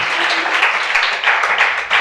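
A church audience claps and applauds continuously, loud and close, a dense wash of hand claps with no voices standing out.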